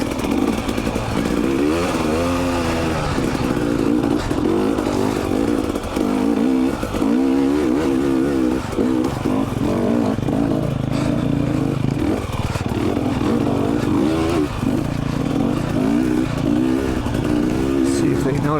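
Dirt bike engines on a Utah single track trail, a steady loud buzzing drone with revs rising and falling throughout, heard close and continuous.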